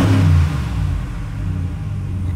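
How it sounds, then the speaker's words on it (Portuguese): Pickup truck engine revved hard with a deep, loud exhaust roar, the exhaust fitted with a diffuser; a strong burst at the start settles into a steady rumbling idle, close and continuous. "Esse ronco aqui, o escape tá."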